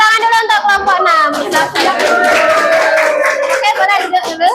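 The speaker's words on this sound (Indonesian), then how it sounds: "Tepuk tangan dulu untuk kelompok 6" A classroom of junior high students claps for group 6, a dense rattle of many hands close by, mixed with children's voices and chatter throughout.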